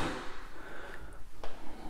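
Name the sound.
soft close kitchen drawers closing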